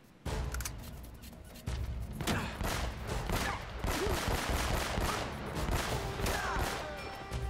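Gunfire in Uncharted: Drake's Fortune, rapid bursts of loud shots and automatic fire crackling in dense volleys after a brief quiet opening, with impacts scattered throughout.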